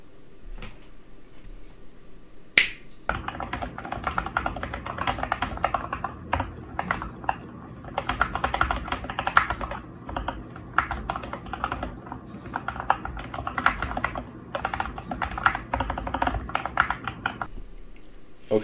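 A modded SK64 mechanical keyboard is typed on steadily and close up, giving a dense, continuous stream of muted, thocky keystrokes after one sharp click near the start, with no voices.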